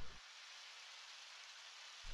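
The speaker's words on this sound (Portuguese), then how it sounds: "Chuva, grande coisa." Steady rain falls in Undertale, a continuous soft hiss of drops lasting about two seconds, even and unbroken, with no voices over it.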